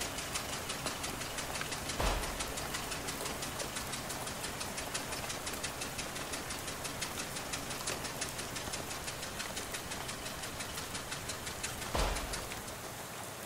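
A bus engine drones through a ride in the West of Loathing game, making a fast, regular knocking putter that holds steady at close range, with two heavier thumps about ten seconds apart.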